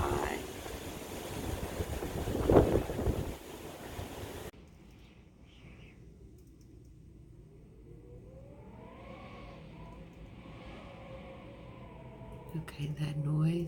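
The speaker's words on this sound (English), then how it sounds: "that noise is the wind blowing from inside." Strong Santa Ana gusts during a high-wind fire outbreak in California, heard from inside as a low, steady rushing moan that swells and fades, louder and rougher at first with talking over it, then a softer whistling hollow roar.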